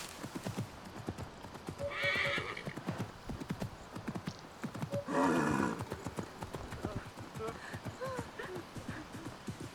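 Hooves clip-clop steadily as a horse moves through the city in Assassin's Creed Mirage, with two loud whinnies breaking out mid-clip; a voice talks over the hoofbeats and game sounds.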